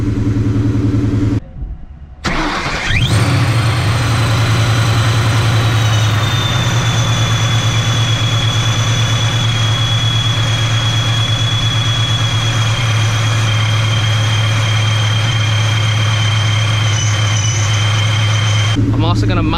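Supercharged 2004 Mustang GT engine heard from inside the engine bay, a loud continuous idle and drone with a high supercharger whine layered on top, briefly cut near the start then steady to the end.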